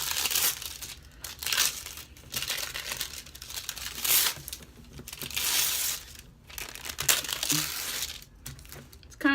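Tracing paper being torn and peeled away from fabric during sewing, giving repeated close crinkling and ripping bursts with pauses between them.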